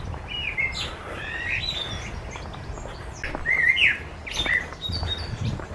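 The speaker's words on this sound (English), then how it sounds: "Listen to the bird sound." Several birds chirp and whistle in short bright phrases, fairly close, over a soft outdoor background hum in Garstang, Lancashire.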